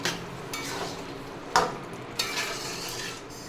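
Ghee, garam masala and chopped coriander being stirred into muri ghonto in a pan, with a soft steady sizzle, scraping stirs and a couple of sharper utensil clinks against the pot.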